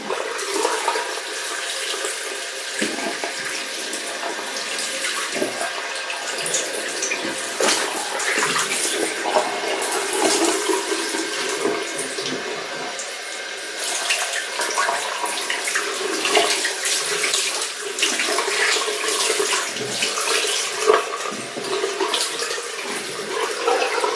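Warm water runs steadily from a shower or tap while a beard is rinsed after shampooing, a loud, continuous splashing hiss that lasts throughout with small shifts in the spray.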